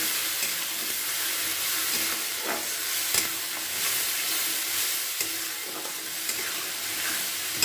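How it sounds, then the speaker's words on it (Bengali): Spice powder is stirred into a frying tilapia curry. A steady, loud sizzle and hiss carry on throughout, broken by scraping strokes of the stirring spoon. "এখানে রেডি করে রাখা মশলার গুঁড়োটাকে দিয়ে দিলাম দিয়ে এটা খুব ভালো করে কিন্তু নাড়াচাড়া করে নিতে হবে"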